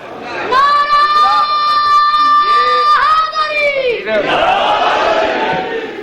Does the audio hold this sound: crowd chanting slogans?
yes